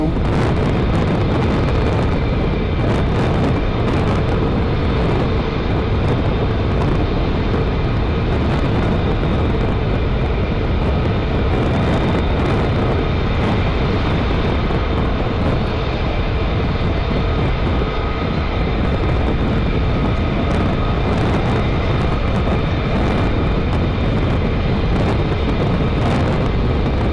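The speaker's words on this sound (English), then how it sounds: "One F-35 on its own" An F-35 fighter jet at RAF Lakenheath makes a loud, continuous, broadband roar that stays strong and steady for the whole stretch, with no one talking over it.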